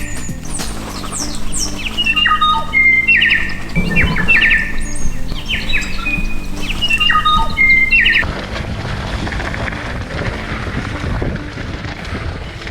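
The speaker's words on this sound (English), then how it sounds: "There's all the kaka, the native New Zealand parrot, hangs out in there with all the other birds and they're all fighting and squabbling and making a racket" Kaka, the native New Zealand parrot, squabble with other birds in big tree fuchsias, a busy tangle of shrill chirps, squeals and calls over steady wind and broadband noise, loudest in the first eight seconds, then quieter.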